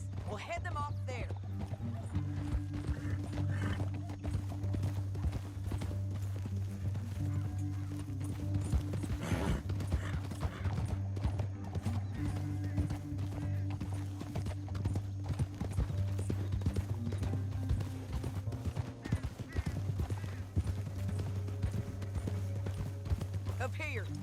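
Horse hooves clip-clop in Red Dead Redemption 2, a steady rapid rhythm of hoofbeats over a low engine-like drone, with occasional whinnies and game voices talking alongside.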